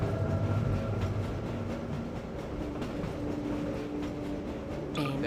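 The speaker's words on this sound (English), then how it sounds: "Good morning, and welcome to the Black Mesa Transit System. Guten Morgen. This automated train..." An automated tram rolls along in Half-Life on Source Engine with a steady, loud mechanical rumble and clatter throughout, ending with a brief noisy burst.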